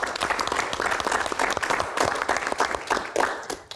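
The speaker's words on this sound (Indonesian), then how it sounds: "Tepuk tangan." Enthusiastic applause from an audience, a dense patter of many hands clapping continuously without pause.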